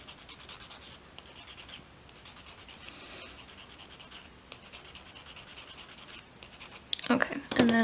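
A nail file rubs back and forth over acrylic fake nail tips, making a soft, steady scratchy sound. A louder burst of noise comes at the very end.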